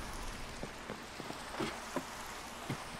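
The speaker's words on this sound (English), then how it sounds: "it might just be raining" Rain in the Minecraft video game, a steady soft hiss with scattered light tapping drops popping through it at irregular intervals, no voices.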